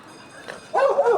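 A dog gives a short whining bark-like yelp, close by, after a moment of quiet background noise.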